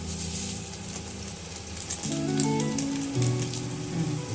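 Spices with a little poppy seed sauté in a pan for Jabbar Bhai style biryani, giving a steady, close sizzle over tonal background music.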